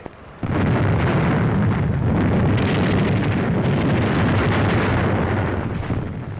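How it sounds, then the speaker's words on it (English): Artillery fire from shore batteries during the Algiers landing, rendered as a sudden loud blast followed by a dense, sustained roaring rumble of explosions that continues to the end. "our landing craft also met fire from shore batteries, which were soon silenced by ships of the British Navy"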